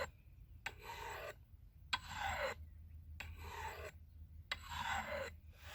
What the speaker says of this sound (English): Okay, so I started with the coarse stones on that. Get some of the rough spots out that were on the edge.